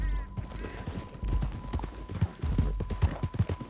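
Horse hooves clip-clop at a steady walking gait in the Red Dead Redemption 2 video game, close and fairly quiet, with a faint tone humming underneath.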